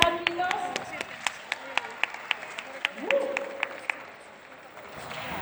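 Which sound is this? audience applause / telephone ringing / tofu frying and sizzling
audience applause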